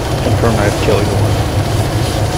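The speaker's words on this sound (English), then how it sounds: "This is my own team's chopper, dude." A helicopter in the Arma 3 war game passes overhead in a steady, loud drone of rotor and engine noise, with voices talking over it.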